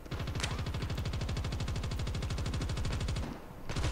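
Full-auto bursts from the HBRa3 assault rifle in the shooter game Call of Duty: Mobile: a fast, even stream of sharp shots that cuts off briefly near the end, then resumes. Close and loud, with no talking.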